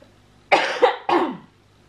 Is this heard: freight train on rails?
no